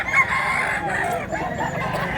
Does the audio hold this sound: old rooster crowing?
yes